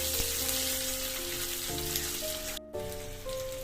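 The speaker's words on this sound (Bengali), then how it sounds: "এবার আমরা ভাজবো।" Sliced onions fry in oil with bay leaves and a pinch of sugar in a pan, a steady close crackling sizzle under a faint background hum.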